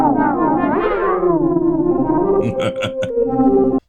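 A Taiga keyboard synthesizer plays a gliding, wavering tone drenched in reverb, followed by a few sharp plucked notes that echo and trail away.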